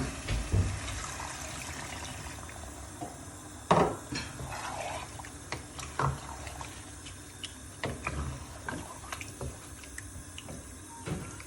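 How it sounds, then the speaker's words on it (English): Water poured from a mug into a pot of chicken karahi on the stove, a few soft splashing and trickling bursts over low kitchen background noise. "I'm just adding 1 mug of water so the chicken can cook for about 15-20 minutes."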